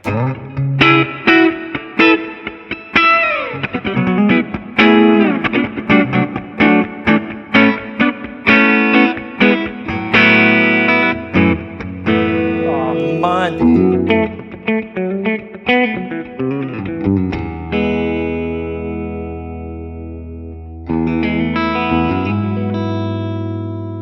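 Electric guitar, a Patrick James Eggle Macon, played with a washed, reverberant tone: quick picked notes and strummed chords ringing out, trailing into a long sustained chord, loud and alone.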